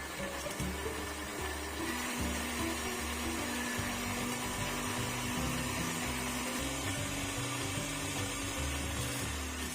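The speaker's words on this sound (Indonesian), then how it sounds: "masukkan kemiri yang sudah disangrai ke dalam blender, masukkan jahe dan juga kunyit, tambahkan minyak goreng" An electric blender grinds roasted candlenuts, ginger, turmeric and cooking oil into a paste, running as a continuous loud whirring drone with a few shifts in pitch.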